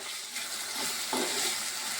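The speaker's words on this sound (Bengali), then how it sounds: "চালটাকে একটু ভাজা ভাজা করবো" Rice is dry-frying in a pan over low to medium gas, giving a soft, close crackle and hiss with a few stirring scrapes, and no one speaks.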